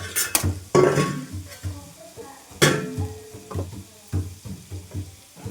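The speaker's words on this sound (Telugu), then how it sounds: "ఈ లోపు నేను సిమ్లో పెట్టుకుని దీన్ని ఫ్రై చేసుకుంటూ ఉంటాను." A carrot mixture fries on a low flame while being stirred in a pan, with repeated clattering spoon strokes and scrapes over a gentle sizzle, close up and without speech.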